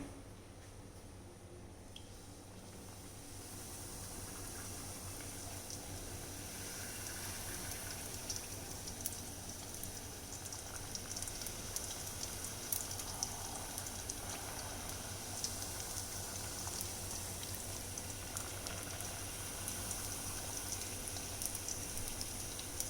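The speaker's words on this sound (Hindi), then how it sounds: "अब हम इसे तलना स्टार्ट करते हैं।" Sooji golgappe puris fry in hot oil, a steady, faint, even sizzle and crackle with scattered small pops that builds slightly after the first seconds and continues throughout.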